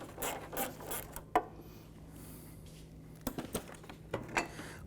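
A ratchet on a couple of extensions turns the headlight screws on a Chevrolet Equinox from the 2010–2017 years, giving soft, close clicking and clunking bursts over a low, steady hum, with no talking.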